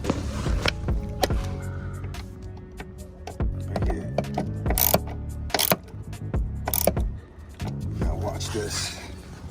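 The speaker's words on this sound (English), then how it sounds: "So we'll take out this ratchet with a 7mm socket and" A ratchet with a 7mm socket works a small bolt on a Mercedes W205, a series of close metallic clicks and mechanical rattles heard between stretches of someone talking.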